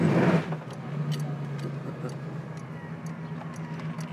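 A Mercury convertible rolls slowly into a residential driveway, its low engine hum steady and close with a brief louder burst at the start, then light ticking and faint clicks over the idling drone.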